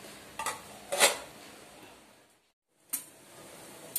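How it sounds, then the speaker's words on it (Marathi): Metal lid and pot clinks in a home kitchen while Malvani-style tomato saar cooks: a few sharp clanks, two close together early, then a pause and another clank, no talk. "झाकण ठेवते जरा."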